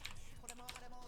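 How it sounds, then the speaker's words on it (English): A few quick computer keyboard clicks tapping close by while playing a game, faint and brief, with soft keystrokes spaced irregularly over about a second. "adapting to playing on the keyboard"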